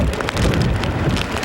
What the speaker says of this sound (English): the first outer bands of rain brush the shore